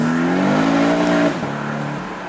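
A Porsche 718 Boxster sports car with PDK transmission accelerates hard, its engine note climbing steadily and loudly before an upshift drops the pitch, close and alone without talk.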